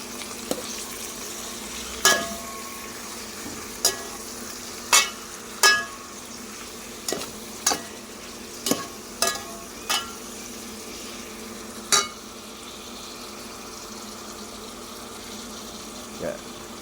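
Squid frying in a pan for ginataang pusit, a steady sizzle with repeated clinks and scrapes of stirring, a voice speaking now and then over the cooking.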